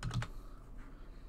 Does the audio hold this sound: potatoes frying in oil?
no